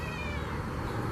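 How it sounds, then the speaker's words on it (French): A cat gives anguished, drawn-out cries at a campsite, heard close and loud as one continuous yowl over a dense, noisy background. "Ils imitaient de façon troublante les cris angoissés d'un chat."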